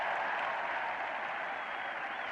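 A cricket crowd applauds a Tony Greig shot during a Test against Australia, with steady, even clapping from a large distant crowd throughout.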